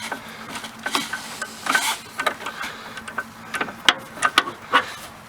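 A socket wrench ratchets in short bursts on a sway bar link of a Ford Windstar, a series of sharp clicks and taps with irregular pauses, close by.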